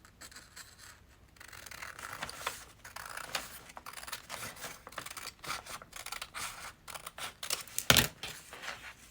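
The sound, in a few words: scissors cutting paper bag part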